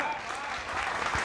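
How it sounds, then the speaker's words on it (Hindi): A studio audience applauds in a steady, full burst of many hands clapping on a live political talk show, with a voice faintly underneath. "थोड़ी तालियां बढ़ाइए बेटा"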